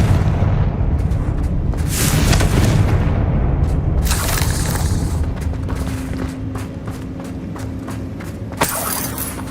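Fiery Confringo spell blast in Hogwarts Legacy combat, a heavy booming burst followed by rumbling crackle and scattered sharp impacts, loud and close.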